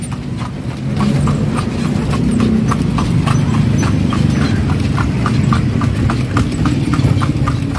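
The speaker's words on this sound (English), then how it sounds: "We're cruising here with our Kalesa and our driver." Horse hooves clip-clop in a steady, even rhythm as the animal pulls a kalesa carriage through Vigan in the Philippines, with a low rolling rumble of wheels and street noise underneath.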